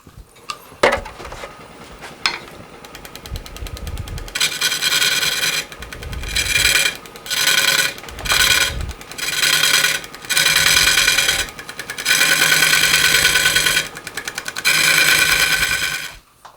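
A scraper tool whittles wood while a Medusa vase is carved, producing bursts of loud, close rasping and chattering, the bursts lasting one to two seconds and broken by short pauses, with no talk.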